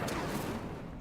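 A burst of magical fire from the Incendio spell in a Hogwarts video game, a short roaring whoosh that crackles and fades over about a second.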